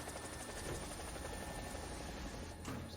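Helicopter in the War Thunder video game lifting off, a steady, dense rotor and engine roar holding at an even level throughout, with a brief swell near the end and no voices.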